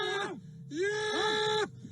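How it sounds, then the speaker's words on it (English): A man being forcibly restrained inside a car makes strained, moaning gasps for breath: two drawn-out wailing groans, the second longer, close and fairly faint. "This is a video of a man gasping for breath"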